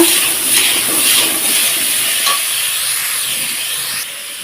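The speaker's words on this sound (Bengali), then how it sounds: "আমি ওই তেলের মধ্যে আলুটাকে ভেজে নিচ্ছি" Potato pieces frying in hot oil for a Bengali fish curry, a loud, close, steady hissing sizzle with faint pulsing that fades slightly near the end; no talking.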